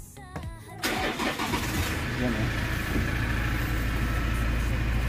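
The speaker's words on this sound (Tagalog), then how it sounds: "Paparinig natin yung makina." A 2020 car engine cranks and catches after a brief spoken word, then settles into a steady, loud idle that continues through to the end.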